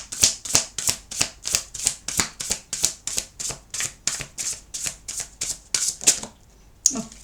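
Tarot cards being shuffled by hand, a quick regular run of about a dozen crisp riffling bursts close up, then a brief pause and one final snap.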